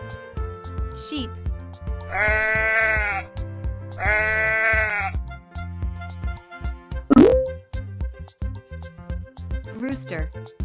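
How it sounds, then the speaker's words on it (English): A sheep bleats twice in long, quavering calls of similar length, close and clear, with short spoken sounds around them. "Sheep."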